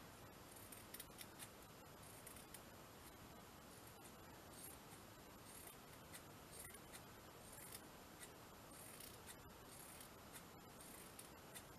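Quiet, close snipping of scissors cutting fabric for dangle embellishments, a steady run of small crisp cuts repeating throughout under a faint background hiss.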